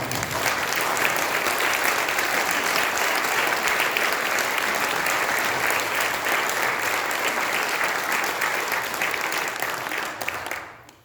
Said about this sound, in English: I think it's appropriate to have some applause at this point